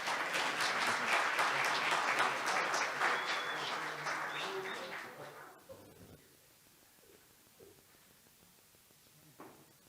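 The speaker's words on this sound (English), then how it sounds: "Let's give Fred a round of applause." Audience applause at an industry foundation event fills the first half with dense clapping, then fades out to a quiet room with a few stray claps.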